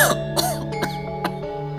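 A man coughs and clears his throat a few times in quick succession, close and fairly loud, before he begins speaking, with a sustained musical tone in the background.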